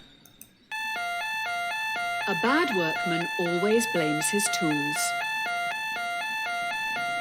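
Alarms going off in the video game Trolley Problem Inc, a repeating electronic beeping tone pattern that starts abruptly and keeps pulsing steadily while a voice talks over it.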